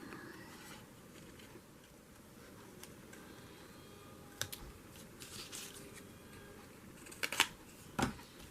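Scissors snip through paper while cutting out a picture, giving faint, scattered crisp cuts over a low background, with a few sharper snips toward the end.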